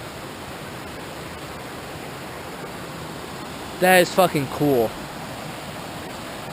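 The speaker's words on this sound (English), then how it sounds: "Yeah, all this waterfall stuff." Steady broadband rush of the waterfall at Possum Creek on the Cumberland Trail near Heiss Mountain, an even roar filling the whole clip, with a brief burst of a voice near the end over it.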